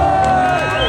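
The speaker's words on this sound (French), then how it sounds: "bravo, on peut s'applaudir" A crowd at a street demonstration in Besançon cheers and whoops, with clapping mixed into a loud, dense burst of voices, close and continuous.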